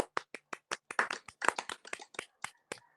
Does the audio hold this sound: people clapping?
yes